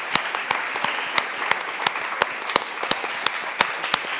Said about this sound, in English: And please give them a round of applause.